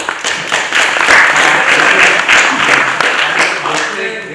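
Audience at a talk show breaking into applause for a guest, a loud bed of clapping and crowd noise that runs the whole stretch, with some voices mixed in.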